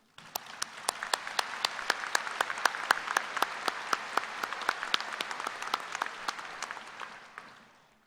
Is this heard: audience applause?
yes